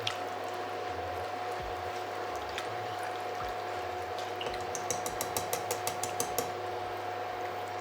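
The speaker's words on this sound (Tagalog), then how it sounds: "Ayan, pwede nyo siyang haluin ng haluin." Milk sauce for lasagna being stirred in a pot, with a soft, steady scraping swirl and faint light clinks of utensil against metal, fairly quiet over a constant background hum.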